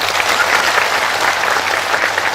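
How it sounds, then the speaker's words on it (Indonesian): Loud, steady audience applause at a religious haul commemoration gathering, dense clapping filling the whole stretch without a break and with no talk over it. "Tepuk tangan orang."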